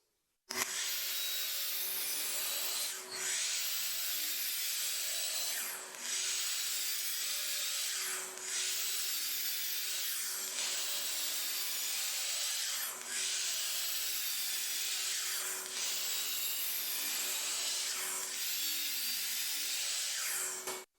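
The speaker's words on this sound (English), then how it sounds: "everything that was just cut on the miter saw" Wooden boards, including a fresh 2x6, are worked in a shop with repeated rasping, rubbing strokes in a steady rhythm, each stroke separated by short pauses, moderately quiet and without talk.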